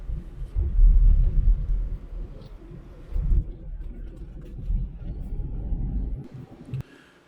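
A car driving along a damaged road under repair, a low rumbling road and engine noise that swells and eases with bumps, fairly close, fading to near quiet at the end.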